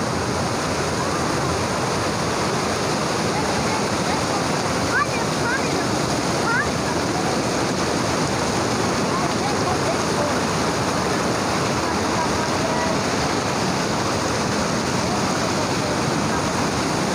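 A fast-flowing river in Kalam valley, Swat roars steadily and loudly nearby, a dense continuous flow with faint voices beneath it.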